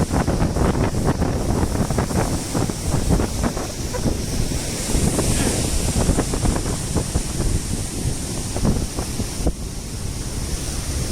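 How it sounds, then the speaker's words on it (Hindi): Large evening sea waves breaking continuously on the shore, a loud, dense roar of surf with wind buffeting the microphone throughout. "इस समय लहर थोड़ा ज़्यादा ही होता है और लहर का आकार बड़ा ही होता है"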